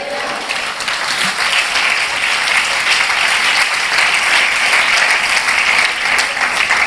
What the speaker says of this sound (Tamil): தலைக்கு மேலே கைதட்டுங்களே.